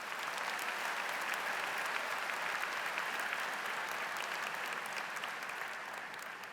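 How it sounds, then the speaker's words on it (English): A large commencement audience at a university College of Engineering graduation applauds families and mentors, steady dense clapping filling the hall from start to finish, slightly easing at the end. "Round of applause, please."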